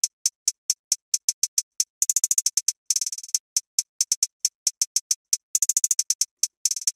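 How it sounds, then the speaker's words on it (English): Trap hi-hat pattern programmed in FL Studio, crisp ticking hits in a steady pulse broken by fast rolls and stutters, bright and close, played alone. "We have this hi-hat,"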